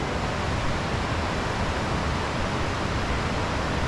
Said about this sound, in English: listening to the stream flowing by